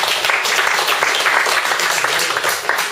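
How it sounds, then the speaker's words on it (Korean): Loud, close audience applause of encouragement at a Won Buddhist group presentation, dense continuous clapping from many hands. "다시 한번 격려의 박수 부탁드립니다"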